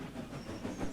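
Animated steam engine Emily puffs out of the shed, a faint, soft hiss and chuff lasting about a second with no talk.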